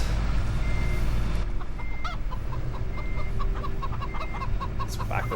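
A tractor reversing a trailer in Farming Simulator 17 gives off a steady series of beeps, about one per second, over a constant engine drone, with chickens clucking nearby.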